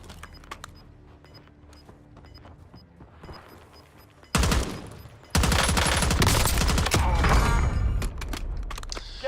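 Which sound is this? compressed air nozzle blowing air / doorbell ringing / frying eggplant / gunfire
gunfire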